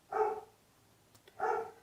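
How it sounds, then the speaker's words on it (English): A dog barks twice downstairs, each bark muffled and somewhat distant, with a pause of about a second between the two barks in an otherwise quiet room. "the dog's going a little nuts downstairs"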